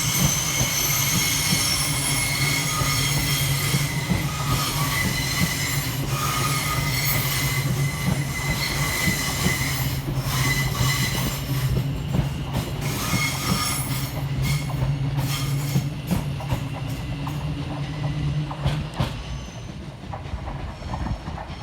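A West Midlands Railway Class 170 diesel train rumbles steadily through Barnt Green station, engine droning loudly with wheels clattering and squealing on the rails throughout.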